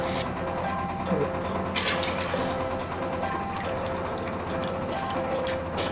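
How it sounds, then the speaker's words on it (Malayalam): Water poured into chicken stock for Arabian-style mandi rice, a continuous liquid rush and splash close by, steady for several seconds. "ഇനി അതിലോട്ട് നമുക്ക് റൈസിന് ആവശ്യമായിട്ടുള്ള വെള്ളം ചേർക്കാം."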